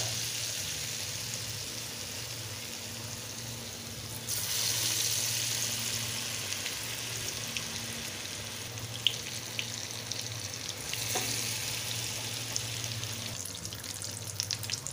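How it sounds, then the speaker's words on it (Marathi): Potato vadas coated in ground dal batter deep-frying in hot oil over a low flame, giving a steady broadband bubbling hiss that swells midway and continues without voices. "वडा आपला तळत आला"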